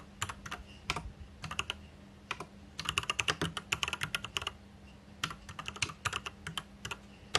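Crisp keystrokes on a computer keyboard as a terminal command is typed in Git Bash, coming in quick bursts with short pauses, close and clear against a faint steady hum.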